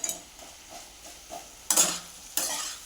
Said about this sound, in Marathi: मिक्स करून घ्यायचा आहे सगळा मसाला